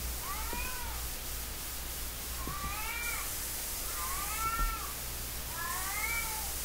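Cats meow in the horror video game Erie: four drawn-out, wavering meows at fairly even intervals, moderately loud over a steady low droning background, with no talking.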